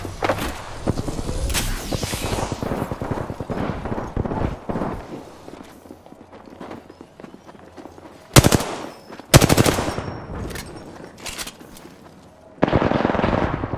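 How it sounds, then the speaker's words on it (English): Video game gunfire in the shooter Last Stand, with dense bursts of automatic rifle shots and several loud close single blasts spread across a busy firefight, with no one talking. "I am taking fire, friends."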